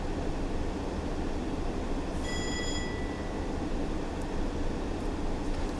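A Class 101 diesel multiple unit in Train Sim World 5, running the Carlisle to Oxenholme line up a hill, rumbles steadily under a thin, brief mechanical whine, with no talk.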